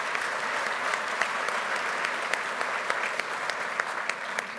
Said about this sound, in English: I really wanted to take a moment to applaud her efforts